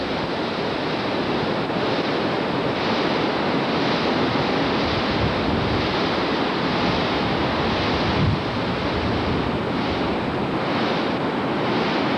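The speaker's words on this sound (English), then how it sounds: "View of the river approaching the brink of Upper Falls." Broad steady roar of a river rushing toward the brink of Upper Falls, a continuous loud wash of water with wind buffeting the microphone and no voices.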